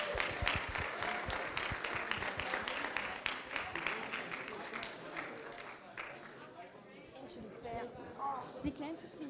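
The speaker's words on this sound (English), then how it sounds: "Again, round of applause for the winning group" Applause for the winning group at a prize-giving closing an international marketing week, scattered clapping and crowd noise under nearby talking voices that continue throughout, fading somewhat toward the end.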